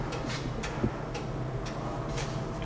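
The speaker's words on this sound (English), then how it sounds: "There's a railroad crossing sign right here. It's clicking back and forth." A railroad crossing signal's regular clicking ticks repeat in a steady back-and-forth rhythm, about two per second, over a low outdoor hum, at Durand Union Station.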